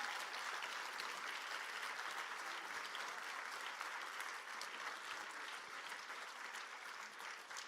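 An audience at a Take Back Tech plenary applauds Naomi Klein, dense continuous clapping from a large crowd held at an even level throughout, with no voices standing out.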